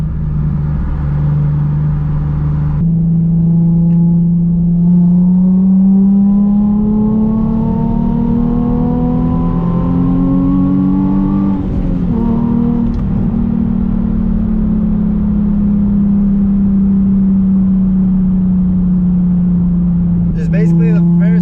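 Turbocharged 1.6-liter Mazda Miata accelerating with the turbo spooling, a loud droning engine note that rises slowly in pitch and then levels off, with a person talking over it.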